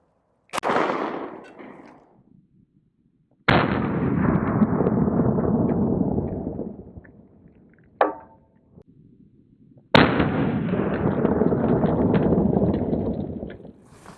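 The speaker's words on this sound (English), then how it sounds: "165 grain federal stuff coming out of a Glock 23." A .40 caliber Glock 23 firing 165 grain Federal rounds at a Kevlar armor vest, three sharp, loud outdoor shots spaced seconds apart, each followed by a long rolling echo, with a fainter impact crack between.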